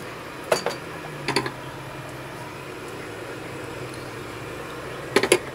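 A nonstick pot is handled while cooking green curry chicken, giving a few sharp metallic clinks and knocks in small clusters against a quiet kitchen background.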